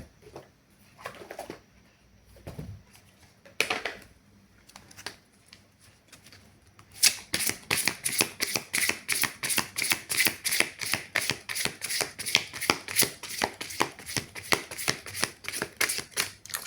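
Tarot cards shuffled by hand during a card reading: scattered soft handling sounds at first, then a long run of rapid, rhythmic riffling flutters, close and clear, with no talk.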